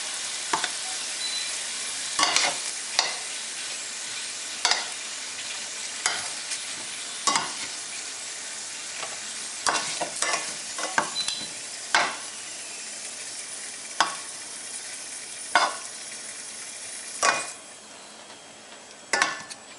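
Garlic and onion sauté in a hot pan for beef ribs caldereta, a steady soft sizzle broken by a dozen sharp scrapes and clinks of a utensil stirring against the pan at irregular intervals.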